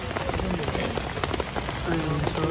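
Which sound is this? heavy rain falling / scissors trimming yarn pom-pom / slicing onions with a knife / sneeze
heavy rain falling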